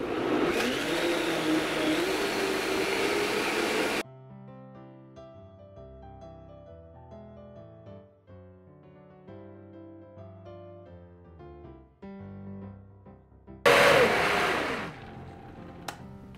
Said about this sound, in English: we're going to blend this and get it all creamy